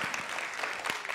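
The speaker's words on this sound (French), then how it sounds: "Vous pouvez applaudir si vous le souhaitez" Audience applause at an evening bridge-industry gala, the Soirée des Ponts 2024, held at a corporate headquarters; a short, steady patter of many hands clapping, moderately distant and fairly quiet.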